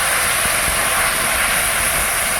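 Spice paste of ginger, cumin, dried chilli and onion sizzles hard in a pan with fried onions, a loud, dense, continuous hiss with no pauses and no voices.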